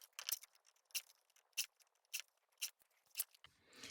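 Scissors snip through paper, trimming the white border from a cutout for a collage: six crisp, evenly spaced cuts close by, each a sharp bright snap, followed by a soft paper rustle.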